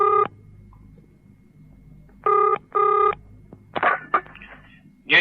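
Several short electronic ringing bursts with tonal pulses, pausing between them, followed by a few clicks and handset clatter, fairly close.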